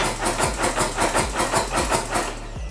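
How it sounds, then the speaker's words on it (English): A motorcycle engine runs at idle in neutral with the fuel line purged, a steady close mechanical chug with regular pulsing beats that fades toward the end as it stalls, with no talking. "Now I'll run it until it stalls."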